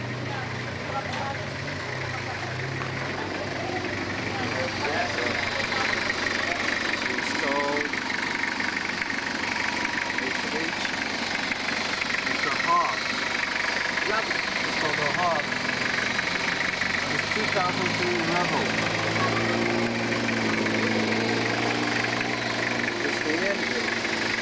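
A Toyota 2.4 diesel from 2003, fitted with an HHO cell, idles with a steady, close mechanical clatter and hum, its rhythm constant, while people talk over it.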